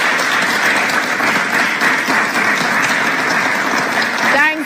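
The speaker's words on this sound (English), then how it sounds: "Audience, you can clap now." A debate audience at a Jamaican general election team debate between the JLP and PNP breaks into sustained applause, a full, even crowd clapping that swells slightly before stopping abruptly.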